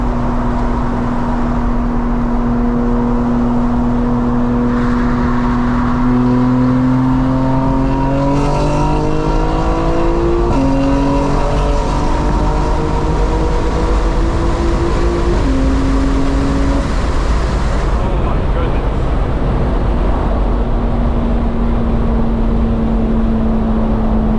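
A custom-tuned 900 hp 2025 BMW M4 Competition xDrive on a flex-fuel map runs at wide open throttle, its engine note climbing loudly through several quick gear shifts before settling into a steady, aggressive drone.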